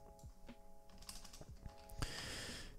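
Keys clatter on a computer keyboard in short irregular bursts, quiet and close, ending in a faint run of faster taps.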